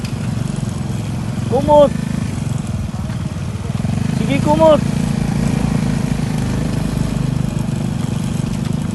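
A motorcycle engine runs steadily during riding practice, a low, even drone under a person speaking a few short words, with no clear revving.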